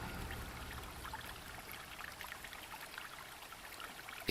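River water flows in a soft, steady rush with faint trickling, quiet and continuous throughout, with no voices.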